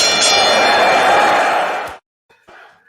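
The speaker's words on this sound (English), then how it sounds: "I'm going to ring the bell" A wrestling ring bell clangs loudly with a dense, ringing metallic wash for about two seconds, then cuts off sharply; a brief, fainter sound follows after a short silence.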